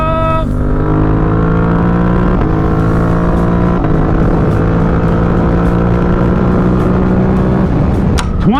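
A 2023 Suzuki GSX-8R motorcycle pulls hard in fourth gear, its engine note climbing steadily and loudly close by with wind rush, then easing back as it shifts near the end.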